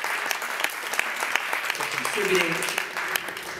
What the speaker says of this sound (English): Another round of applause for our lovely volunteers